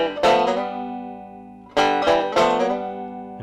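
Banjo sliding into an F-position chord: one strummed chord rings and decays, then two more quick strums follow a second later, bright and close with no talking.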